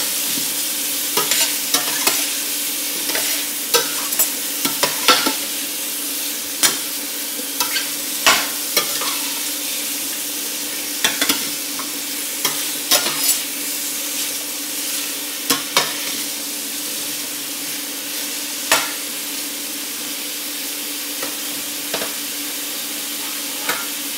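Vegetables with lemon verbena and Chinese pepper sizzling steadily in a pan, close and loud, with regular sharp spatula scrapes and taps punctuating the hiss throughout.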